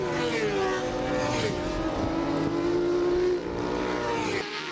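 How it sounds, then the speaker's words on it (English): 750 super stock motorcycles racing, engines droning and shifting pitch in a sustained loud roar as the bikes pass, with a sudden drop at the end. "we got Joe Persiano, Leah Gree, and Jeff Kramer battling in the 750 super stock race"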